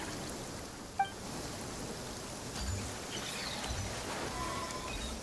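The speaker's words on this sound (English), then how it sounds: "Taking shelter and listening to the rain cleanse the earth makes me feel safe." Soft, steady rain falls in the video game Genshin Impact, a faint continuous hiss with a single brief click near the start.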